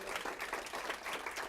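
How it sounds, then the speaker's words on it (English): Audience applause at a talk by a construction company founder, a steady patter of clapping at moderate distance, fairly faint and even throughout. "help me give Nancy a round of applause"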